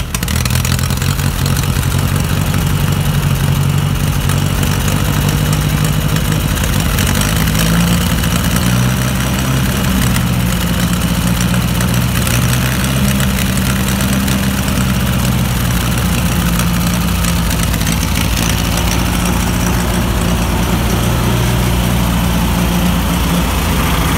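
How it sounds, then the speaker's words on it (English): A small tractor engine idles steadily after a cold start with the choke just turned off, a loud, even low rumble with light mechanical clatter and no voices. "Running a little tractor"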